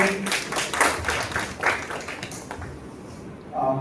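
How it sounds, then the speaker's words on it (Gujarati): An audience applauding at a literary talk event in Rajkot, a dense, steady burst of many hands clapping that fades near the end. "જોરદાર તાળીઓ થઈ જાય"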